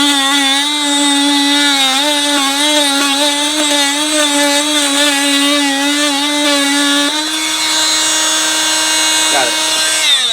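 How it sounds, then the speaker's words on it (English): A Dremel oscillating blade buzzes steadily while cutting through a plastic irrigation pipe under pavers, a loud continuous whine that shifts pitch slightly near the end of the cut. "So I'm going to use this Dremel here with an oscillating blade so I can get good access to that"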